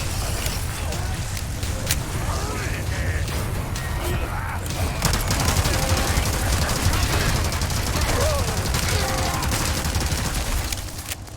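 A fully upgraded LE5 light machine gun in Resident Evil 4 Remake fires in a dense, sustained barrage, rapid shots blending into a loud continuous roar with no break.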